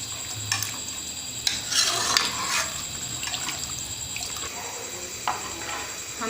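One to two litres of water go into a pot of gram-flour karhi mixture and are stirred steadily with a spoon. The pot gives off a continuous close splashing and sloshing with scraping, under a soft background hiss.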